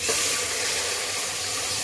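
Water pours steadily into a pot of cooked spice masala for lentil dal, a bright continuous splashing hiss, close and fairly loud, lasting under two seconds.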